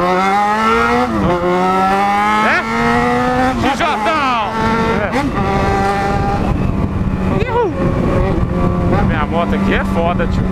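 Loud engine revving up and down repeatedly with rising and falling pitch sweeps, close and dominant throughout.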